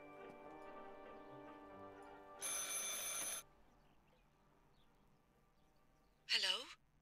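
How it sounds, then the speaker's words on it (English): A telephone in the game Martha is Dead rings in a single sustained electronic burst, followed after a quiet stretch by another short ring-like chirp, over a faint tonal hum of ambient game music. "I should pick up the phone but remain silent."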